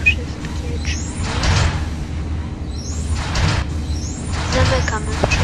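Bus doors slide open with a hiss of air at a stop in a Roblox bus game, the whooshing sound repeating over a low engine rumble.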